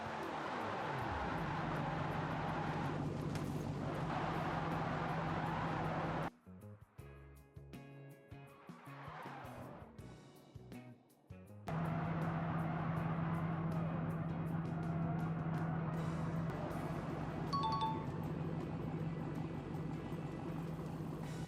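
Car engine held at full throttle in the BeamNG driving game, a sustained loud droning roar that drops away briefly mid-run before surging back and holding steady.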